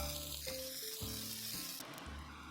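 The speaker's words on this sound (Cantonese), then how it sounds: "將佢每面煎大概2分鐘左右， 煎到啲蝦仁兩面金黃" Shelled shrimp sear in a wok until golden on both sides, making a continuous, fairly faint sizzling hiss with a soft steady tone running beneath it.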